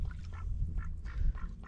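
White geese at Karagöl lake near Izmir calling in repeated honking bursts, about five nasal calls at an uneven rhythm over low background rumble, fairly close.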